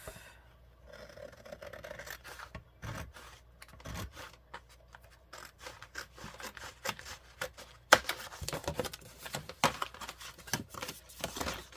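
Scissors cut a paper piece for a Peter Rabbit themed journal, a run of close, dry snips and scraping rustles in an irregular rhythm, quiet with sharper bursts near the end.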